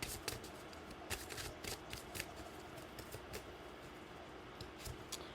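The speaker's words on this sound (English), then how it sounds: "let's go ahead and pull a couple more cards" Tarot cards being shuffled up close: quick, papery riffling and sliding bursts repeating steadily for several seconds, with no voices.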